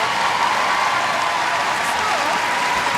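Netball arena crowd at the M&S Bank Arena giving a loud, sustained ovation of steady applause and cheering, filling the space evenly throughout with no break.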